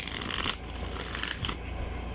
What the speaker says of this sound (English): because they are matte, they are really easy to shuffle.